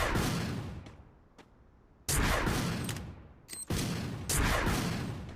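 Rocket launcher blasts and gunfire in a shooting video game: loud explosive bursts with long decaying tails, several sharp hits in quick succession, with no talking.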